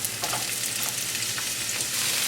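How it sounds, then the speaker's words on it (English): Onions frying in hot oil in a home-kitchen pan, a steady close sizzle with a soft crackle running evenly throughout, no voices. "once the pan is hot, you're gonna add some more oil. And now I'm gonna add the onions."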